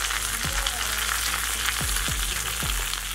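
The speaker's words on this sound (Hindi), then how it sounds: "हमें तो सबको फ्राई कर लेना है।" Curry leaves and green chillies frying in hot oil in a pan, a loud steady sizzle up close with a few soft low thumps of stirring, and no voices.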